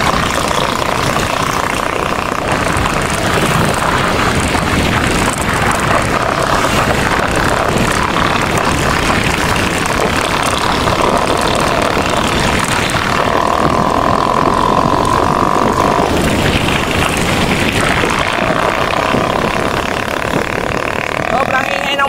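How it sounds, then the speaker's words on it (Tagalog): Loud motorcycle engine with an aftermarket muffler roars steadily and close by throughout, with people talking over it. "Sobrang ingay ng motor ngayon."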